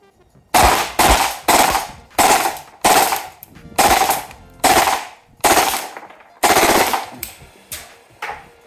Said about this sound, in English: So it definitely would have run through nearly that entire mag, fully auto, just burst firing